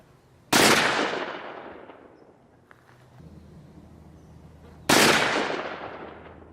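Two loud, sharp .44 Magnum gunshots ring out outdoors at a concrete block, spaced several seconds apart, each with a long decaying echo tail and quieter rustling between them.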